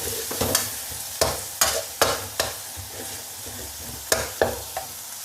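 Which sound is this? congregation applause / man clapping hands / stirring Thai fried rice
stirring Thai fried rice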